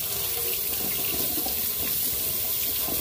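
Water runs steadily from a tap into a sink, a continuous close splashing rush with no talk over it.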